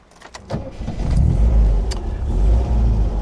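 A 1971 MGB's engine pulls away and settles into a loud, steady drone while driving, building from a quieter start into sustained throaty running with slight rises in revs, heard close and without talk.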